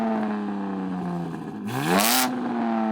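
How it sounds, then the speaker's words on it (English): A car engine revving before a drag race, a steady tone that dips and then surges sharply upward with a loud burst mid-clip before settling back to idle, close and alone. "Yanni, rev up your car."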